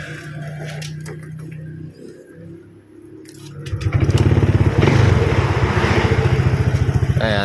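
A Honda Click 125 scooter, just repaired after misfiring, idles quietly and is then revved, its engine building into a loud, steady, even buzz that holds to the end.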